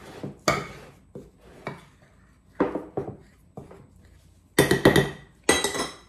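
Flour, salt and yeast being stirred together in a bowl, heard as a handful of sharp clinks and scrapes of a utensil against the bowl that come in separate bursts, near and fairly loud, with no talking.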